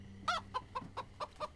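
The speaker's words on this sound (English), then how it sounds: "What's up, zombie chicken?" A zombie chicken in the video game Minecraft Story Mode clucks in a quick run of six short, evenly spaced clucks, close and clear with no talk over them.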